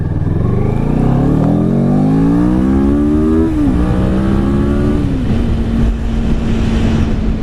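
A 2016 Kawasaki Ninja 650 motorcycle, straight out of the box just after break-in, accelerates hard and close, engine note climbing steadily through two gear changes before settling into a sustained higher drone.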